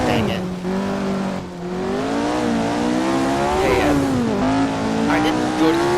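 A 1966-era Formula 1 car driven by Jim Clark laps the Monza oval in the Assetto Corsa racing game, its engine a steady, loud, close whine rising and falling in pitch throughout with continuous revving and no gaps.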